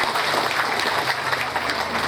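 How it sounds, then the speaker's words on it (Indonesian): Audience applause for a nun at a Catholic thanksgiving Mass marking her 25 years of religious life, a steady dense wash of many hands clapping throughout, fairly loud and even. "Tepuk tangan untuk Suster."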